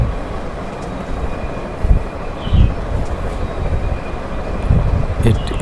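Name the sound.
train ride over a tree garden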